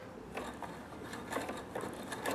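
A Pfaff Quilt Expression 4.2 sewing machine stitching over a thick bump in fabric, a steady, close mechanical whirring with rapid rhythmic needle ticks that swell and fade slightly, no speech.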